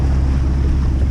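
Sailboat motoring out of the channel to Dublin before dawn in pouring rain: a loud, steady low rumble and rushing wash of engine, rain and wind, unbroken and close to the microphone.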